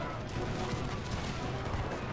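Cannon fire during a siege battle in Empire: Total War, heard as a dense, continuous rumble of booms and crackling volleys across a busy battlefield.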